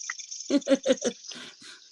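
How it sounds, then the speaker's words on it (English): Crickets chirp outdoors in a thin, steady high trill, joined by a few louder pulsing bursts close by. "Yeah, it's the crickets."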